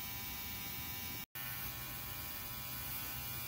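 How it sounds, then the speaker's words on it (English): An ultrasonic cleaner with screws inside hums and buzzes steadily up close, a continuous electric drone broken only by one very brief dropout. "So those screws are in the ultrasonic cleaner."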